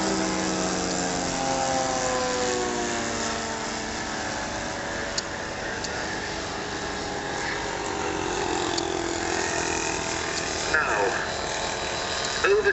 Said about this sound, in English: the blue aeroplane with the yellow wing. That is the second ever kit of the Boeing Stearman.